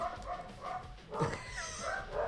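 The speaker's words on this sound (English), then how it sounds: "I apologize for my dogs barking. They bark at everybody that walks across the sidewalk." House dogs bark at people passing on the sidewalk, giving a few short, faint yips and barks in quick succession over about two seconds, with no talking.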